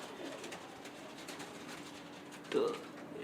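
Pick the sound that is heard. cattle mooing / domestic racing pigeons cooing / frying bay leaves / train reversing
domestic racing pigeons cooing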